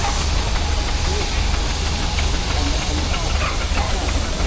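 Steam engines gathered in the arena at a steam rally at Tinkers Park near Hadlow Down, a continuous loud hiss of escaping steam with a low rumble beneath and faint voices mixed in.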